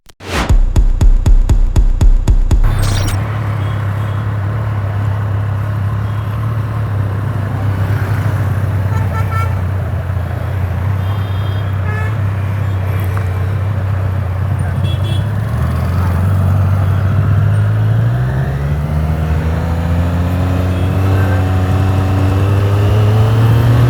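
A motorcycle engine blips sharply at first, then drones steadily while riding and climbs in pitch as it revs higher toward the end, loud and close.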